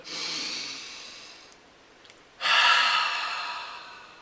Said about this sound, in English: just take a deep breath and exhale